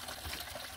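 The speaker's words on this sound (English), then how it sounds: "It airlift pumps water, so you can probably see the water slowly coming up sometimes." An airlift pump on a solar panel tracker pushes water upward, giving a brief, steady gushing and bubbling wash of water that stays fairly quiet and even.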